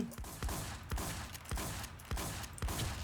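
Gunfire in a Thai-language online shooter game crackles in repeated sharp bursts roughly every half second, fairly loud and dense, with no talk over it.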